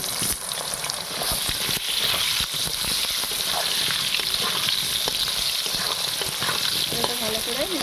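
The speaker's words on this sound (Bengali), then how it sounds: "আলুটা ভেজে নিচ্ছি" Potatoes fry in oil left over from frying pangas fish, giving a loud, close, continuous sizzle with stirring scrapes and clatters throughout and no talking.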